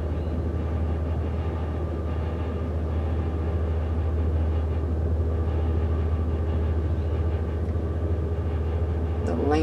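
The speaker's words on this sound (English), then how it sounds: "See that they are bringing the platform down" A ferry's landing platform lowers toward the boat on the crossing from Bolivar Peninsula to Galveston Island, a steady low mechanical rumble and drone sustained throughout, with a brief higher clank near the end.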